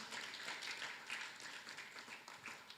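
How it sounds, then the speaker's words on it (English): Applause from an audience at a Nigerian press conference celebrating polio eradication certification, a steady, faint wash of many hands clapping at a distance, unbroken for a few seconds. "Can we please give GPI a round of applause?"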